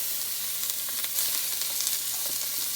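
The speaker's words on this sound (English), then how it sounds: "So you want to put in there that other half of onion." Half an onion sizzling in olive oil inside a cast iron soup pot, a steady bright hiss and crackle with scattered small pops, close and constant throughout, no voices.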